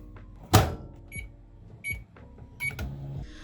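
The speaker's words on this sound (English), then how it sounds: "throw them into the bowl and put them in the microwave to melt" A microwave oven runs while soap cubes melt in a bowl inside, giving a low electrical hum broken by a few short, bright electronic beeps and clicks, close and fairly quiet.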